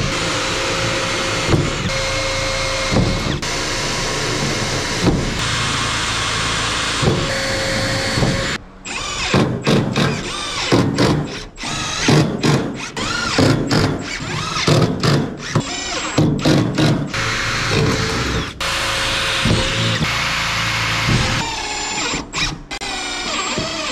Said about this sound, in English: Got the top of the deck screwed down.